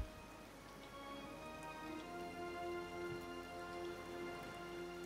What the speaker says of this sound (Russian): Это довольно-таки дождливый день,